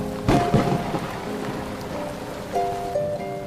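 Steady rain falls in a broad, even hiss with a loud crackling burst near the start and low rumbling underneath, like a thunderstorm, with faint tonal hums in the background.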